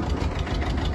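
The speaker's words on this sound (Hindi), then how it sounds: "1980 मॉडल ट्रैक्टर महिंद्रा 255," A 1980 Mahindra 255 tractor engine idles with a steady, dense low rumble and faint knocking vibration, close and continuous throughout, with no voices.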